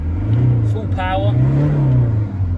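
A 2009 Ford Transit 2.2 TDCi diesel panel van engine revs up and settles back, a steady low drone rising and falling twice, with a person speaking briefly over it.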